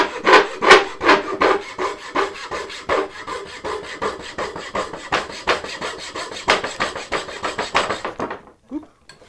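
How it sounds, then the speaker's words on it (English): A hand-built turning saw cuts through wood in a steady run of rasping strokes, each push and pull clearly separated, close and fairly loud, before stopping abruptly near the end with a faint voice after. "Let the saw do the work. Don't force the saw."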